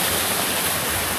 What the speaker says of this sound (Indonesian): Di sini ada air terjun.